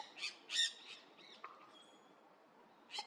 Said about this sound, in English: They're loud, social, and impossible to miss, especially when they're gathered together in the trees.